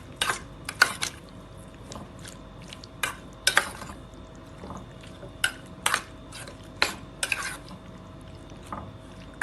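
Marinated prawns are mixed with masala in a bowl, a spoon clinking sharply against the dish in irregular strokes amid soft, wet stirring sounds.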